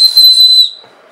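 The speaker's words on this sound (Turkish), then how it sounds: "Bu acil yardım düdüğü." One short, loud, shrill blast from an emergency whistle out of a Gerber Bear Grylls survival kit, blown close by and holding a single piercing pitch for about half a second before cutting off.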